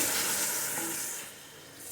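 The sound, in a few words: lentils being fried in a clay pot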